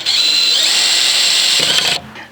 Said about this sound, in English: This is going to be challenging because the drill is too thick.